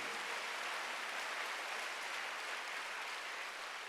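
A church congregation applauds during a Sunday worship service, a steady wash of clapping that holds at the same level for the whole stretch, with no voices above it.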